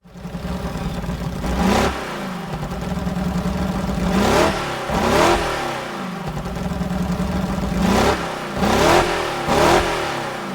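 A Mercedes-Benz W196R racing car engine revs hard in a racing video game, rising and falling in several loud, close bursts over a steady mechanical drone, with no talking.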